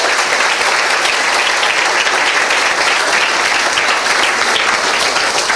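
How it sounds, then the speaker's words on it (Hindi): A church congregation applauds for Jesus during a service, a loud, steady wall of dense clapping that holds evenly without a break. "आइए यीशु के लिए ताली बजाएंगे"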